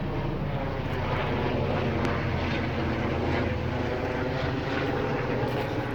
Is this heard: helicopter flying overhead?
yes